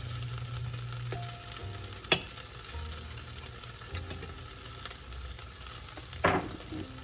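Butter sizzles in a frying pan with a steady, close crackling hiss, broken by a couple of sharp utensil clinks and no talking.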